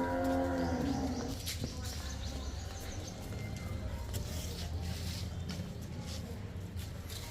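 A Jersey cross dairy cow at a farm gives a short moo at the start, followed by steady outdoor background noise with faint clicks and rustles.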